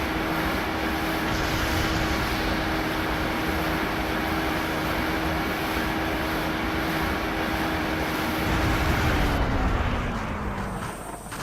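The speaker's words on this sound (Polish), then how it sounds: "O, ta łódź strasznie wyje." A boat engine in the video game Just Cause howls loudly and steadily, a sustained droning roar with a held tone that shifts downward near the end.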